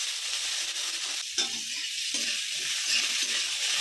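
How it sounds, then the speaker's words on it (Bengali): Carrots frying in a pan with steady bright sizzling and several scraping stirs of a utensil, close up with no one speaking. "প্রথমে গাজরটাকে ভেজে নিচ্ছি"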